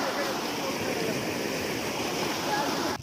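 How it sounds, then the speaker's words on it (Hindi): Fast-flowing floodwater rushes steadily at close range, a loud continuous roar like a swollen stream pouring through a channel. "यहाँ पे देखिए कितना तेज़ी से पानी निकल रहा है"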